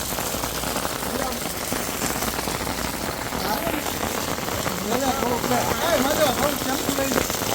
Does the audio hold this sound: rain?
yes